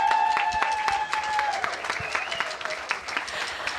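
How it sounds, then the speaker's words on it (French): A church congregation applauds after water baptisms, steady dense clapping with tonal sounds ringing through it, probably organ or keyboard. "on va les applaudir chaleureusement"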